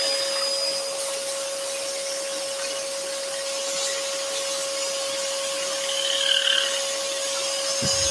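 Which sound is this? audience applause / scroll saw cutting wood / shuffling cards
scroll saw cutting wood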